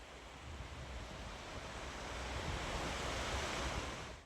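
Sea waves on Kanaichatta beach wash in as a steady, broad surf roar that swells slightly toward the end, with no voices.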